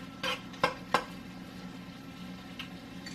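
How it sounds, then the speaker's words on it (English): Lasagna meat sauce mixed with grated Parmesan is stirred in a pan, giving three sharp utensil scrapes and clinks against the pan near the start over a low steady sizzle, then a faint final clink. "Let me stir this a little bit."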